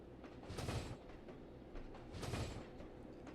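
A train runs in Trainz Simulator 2 with a soft, distant rumble that swells twice in broad whooshing surges, faint and steady without any talk.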